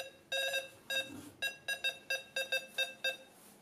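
A Tronik Aventur 212 electromagnetic field detector beeps as nearby lamps are switched on, giving about nine sharp, tonal beeps in an uneven rhythm, close and clear.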